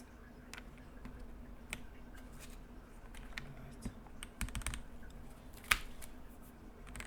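Sparse, quiet clicks and taps from an Akko 5075 mechanical keyboard with a Counter-Strike theme being built and typed on, irregular keystrokes over a faint steady hum.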